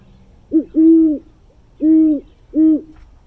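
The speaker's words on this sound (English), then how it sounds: "let's hear what a great horned owl sounds like" A great horned owl gives a short series of deep hoots, one brief note followed by three longer, evenly spaced ones, clear and isolated against a quiet background.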